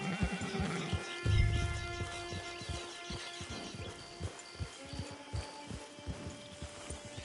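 A horse whinnies loudly near the start of a PS4 video game scene, followed by steady clip-clop hooves and faint bird calls over a background music bed.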